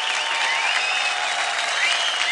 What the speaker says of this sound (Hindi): जोरदार तालियां हो जाए उन दोनों के लिए